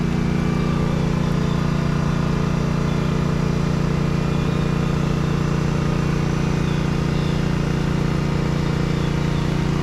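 Kubota KX033 mini excavator at a pond dredging job, its diesel engine running at a steady, loud, unbroken drone for the whole stretch.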